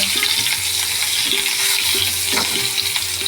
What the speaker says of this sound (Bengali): পেঁয়াজটা দিয়ে দিলাম পেঁয়াজটা একটু ভেজে নেব